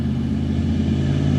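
A 1986 Pontiac car engine running at a steady idle, a low, even rumbling hum with a constant tone, close and loud, with no talking.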